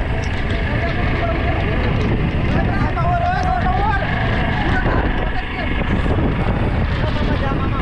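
Strong wind at sea roaring over a fishing boat during a storm off Mumbai, a loud, unbroken rumble and rush with engine-like drone throughout.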